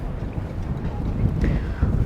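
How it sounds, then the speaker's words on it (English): Steady wind buffeting a microphone on the foredeck of a Sanlorenzo SP92 yacht, a continuous low rumble with gusty swells, heard outdoors with a brief faint whistle-like tone partway through. "It is a little bit windy, so I hope it's not too noisy on camera"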